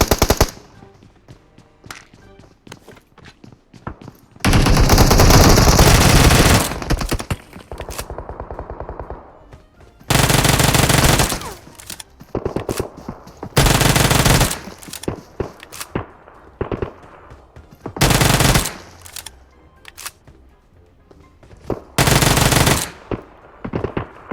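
Loud bursts of automatic gunfire in the PUBG Mobile battle-royale shooter, several sustained rapid volleys separated by quieter gaps with scattered single shots and footsteps.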